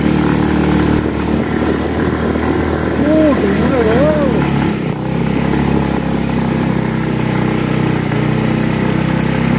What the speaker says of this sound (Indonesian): Motor nggak kuat.